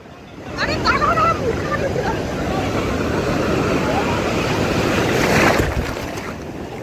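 Ocean surf rolls onto the beach at Puri in a steady, broad wash, swelling toward the end and mixed with wind buffeting the microphone; faint voices may sit beneath it.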